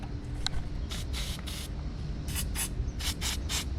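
Several short hissing spray bursts from a spray can while fitting a cold air intake on an Audi B8 S4 3.0T, the first brief, then two longer ones, followed by a tight cluster of four quick sprays near the end.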